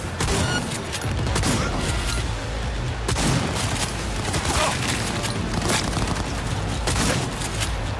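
Shotgun blasts ring out in a Cyberpunk 2077 NCPD mission firefight against a gang, loud heavy booms layered into a dense, continuous barrage of gunfire that never lets up.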